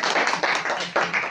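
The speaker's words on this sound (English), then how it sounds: "Big applause, please." Steady applause from a conference audience welcoming a speaker, dense and continuous clapping filling the room without speech.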